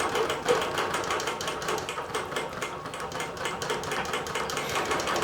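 A computerized quilting machine runs steadily, its needle mechanism giving a fast, even mechanical stitching chatter with a motor hum underneath, close and continuous throughout.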